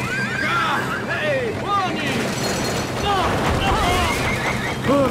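Horse neighing and whinnying in an animated series, with a clamor of hoofbeats and commotion in a busy battle scene; loud and continuous, mixed with shouting voices throughout.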